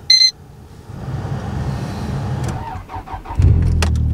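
A rally car's engine is cranked and catches: a short electronic beep, a whirring starter, then the motor fires with a loud close rumble near the end.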